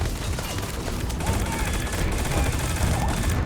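Continuous rapid gunfire in the space game Starfield during a fight, a dense unbroken fusillade of loud, close shots running the whole time with no clear pause.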